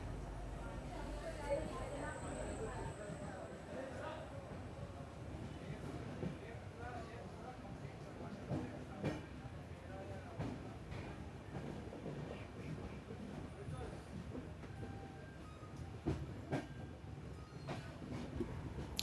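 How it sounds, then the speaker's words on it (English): From inside the 12134 Mangaluru–Mumbai superfast express as it leaves Karwar station in the evening, the carriage gives off a low continuous rumble with soft clatter and occasional clicks, steady and moderately quiet throughout. "So we are finally departing from Karwar station at 7:25 p.m."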